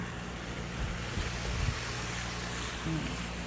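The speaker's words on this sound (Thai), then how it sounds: "มีรถผ่านด้วย" A car passes outside on a snowy, windy day, heard through an open window as a low rumble that swells and fades beneath constant wind noise.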